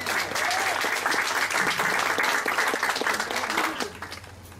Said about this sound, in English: Now let's give the Lord a big hand clap for Charelene, amen.